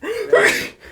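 A single short sneeze bursts out close by, a quick rising intake followed by a sharp explosive release.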